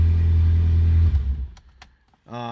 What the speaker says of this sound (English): Starts right up. You can hear it's super loud.